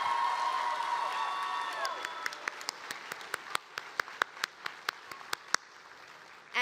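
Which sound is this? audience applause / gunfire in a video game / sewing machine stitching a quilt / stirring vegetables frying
audience applause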